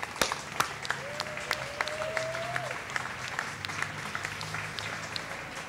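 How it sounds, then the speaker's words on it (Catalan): Audience applause at a public presentation on a workshop project, a steady wash of clapping with several sharp individual claps standing out near the front and a brief whistle-like tone early on. "importantíssim, un aplaudiment"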